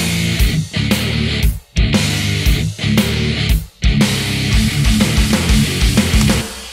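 Heavy programmed metal drum kit in DS Drum RCS Essentials, Pantera-style: dense, loud kick and snare hits with crashing cymbals driving straight through, broken by two brief stops, no voices.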